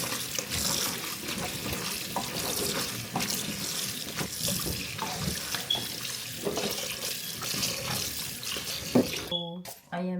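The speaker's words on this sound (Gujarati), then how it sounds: "તો બધું પહેલાં સાફ પાણી સાથે ધોઈ નાખીએ." Leaves for ubaadiyu are rinsed in clean water, a steady running and splashing wash close by that continues for most of the stretch before cutting off near the end.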